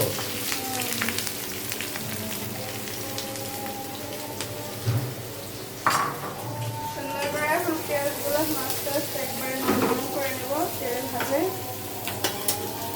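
Chopped onion and green chili frying in a pan for a desi fish curry, a steady sizzle with stirring and scraping throughout, growing louder with clattering bursts near the middle.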